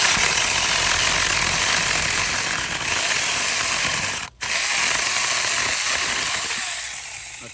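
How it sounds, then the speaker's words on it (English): Battery-powered mini chainsaw with a slightly dull chain cutting through a piece of wood, a loud continuous buzzing whine that breaks off for a split second midway, then runs on and tapers near the end. "I think the blade's getting a little dull, but they're still cutting pretty smooth."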